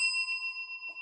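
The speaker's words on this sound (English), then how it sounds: "got my new bell, Scala" A newly bought desk bell struck once, giving a bright, clear ring with steady overtones that decays smoothly over about a second, close and alone.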